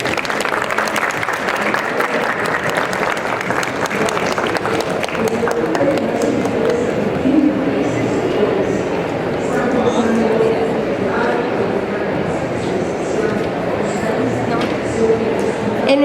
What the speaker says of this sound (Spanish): le despedimos con un fuerte aplauso